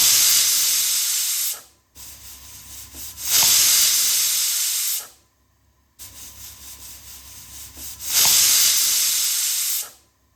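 Pressure cooker cooking broken wheat for Surti fada lapsi, venting steam in two loud hissing bursts of roughly three seconds each, separated by short quiet gaps, close and clear with no talking.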